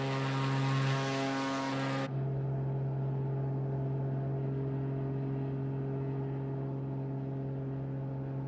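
Propeller aircraft droning steadily in a flight simulator game on a leg from Strasbourg to Munich, a loud constant engine hum whose upper whine cuts off abruptly after about two seconds, leaving a lower steady drone.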